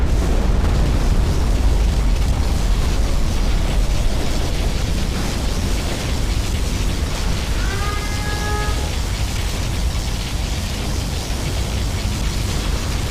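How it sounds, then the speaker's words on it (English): A particle cannon blast in the Command & Conquer Shockwave game, a sustained loud roaring, crackling wash of noise with a brief tonal sweep in the middle, dense and continuous throughout. "Particle cannon activated."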